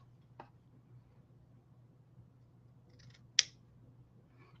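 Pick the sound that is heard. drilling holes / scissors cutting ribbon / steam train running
scissors cutting ribbon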